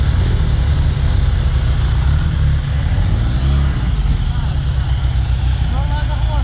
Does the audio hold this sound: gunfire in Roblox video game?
no